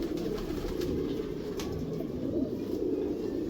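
Pigeons coo in a dense, steady low murmur from a loft of birds, continuous throughout with no distinct pauses and no voices.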